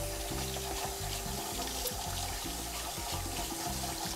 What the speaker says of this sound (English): I'm gonna give my funnel a rinse.